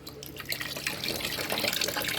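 Water gushes and splashes steadily through a snapping turtle tank's pump filter as a blockage is flushed out, a continuous close hiss and burble with small shifting surges and no voices.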